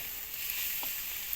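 Drumstick flowers frying with eggplant and potato give a faint, steady sizzle with a soft hiss for a brief moment.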